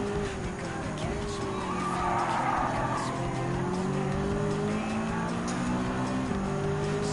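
A 2003 BMW M3 races in Gran Turismo 7, its engine holding a steady, droning note near and loud throughout, with a brief rise of tire squeal midway as it overtakes.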